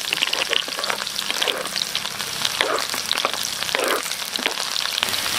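Garlic, onion and star anise fry in a hot pan for beef tapa stir-fry, giving a steady, close crackling sizzle with soft stirring clicks throughout and no voices.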